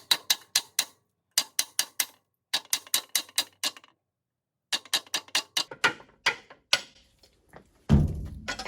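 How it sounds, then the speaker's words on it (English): A rubber mallet taps a retainer wrench held on a Mercruiser upper unit retainer nut, giving quick bursts of sharp knocks in groups of three to five, separated by short pauses, ending in a duller thud. "I just grabbed a rubber mallet, and holding the retainer wrench in place, I'm going to just tap the top"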